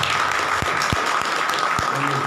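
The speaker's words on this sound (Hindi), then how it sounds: "एक बार जोर से पवित्र आत्मा के लिए ताली बजाएंगे।" A church congregation claps loudly and densely for the Holy Spirit, in a short, continuous burst of applause with occasional voices mixed in.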